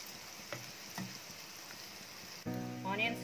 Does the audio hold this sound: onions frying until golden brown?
yes